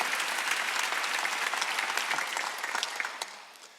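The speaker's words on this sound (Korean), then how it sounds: "박수 한번 더 주세요." Church congregation applauding, a dense, brisk clatter of many hands held steady for a few seconds before thinning out and fading at the close.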